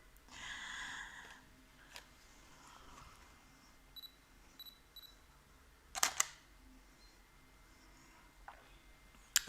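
Several sharp camera shutter clicks, crisp and close, spaced a few seconds apart over quiet room tone, with a soft rustle at the start.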